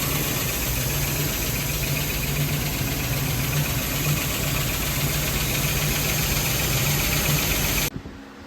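A 1970 Jeep engine idles steadily and loudly, its even low rumble holding for about eight seconds before cutting off abruptly near the end; no one speaks.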